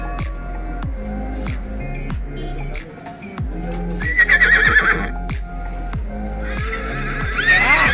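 Horses neigh and whinny several times at a village Dussehra horse procession in Maharashtra, loud and close, with hoof clatter and crowd noise in the background; a long high whinny stands out near the end.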